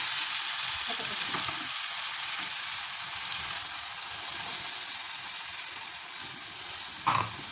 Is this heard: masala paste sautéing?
yes